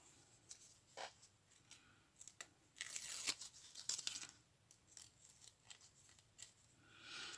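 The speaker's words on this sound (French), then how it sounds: "Pour l'instant, on va couper le bas." Scissors snip through paper for an art journal page in a run of close, crisp cuts and small crunches, spaced irregularly. Soft rustling fills the gaps and nobody talks.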